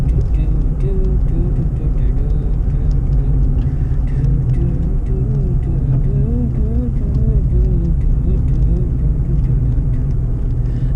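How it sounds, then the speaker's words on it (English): A car drives through Thursday-night road traffic, a constant low engine and tyre rumble filling the cabin, with a steady drone and faint wavering tones over it and no speech. "There's actually much more traffic than I thought there would be around about this time."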